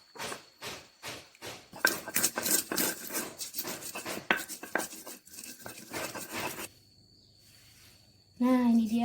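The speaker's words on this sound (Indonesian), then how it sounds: "kita akan menumbuk bumbu dari bawang putih dan juga kencur. Kemudian kacangnya juga akan kita tumbuk hingga halus" Rhythmic scraping and pounding of garlic, kencur and peanuts into a peanut spice paste, repeated close strokes of a pestle grinding in a mortar, then a pause before a voice speaks at the end.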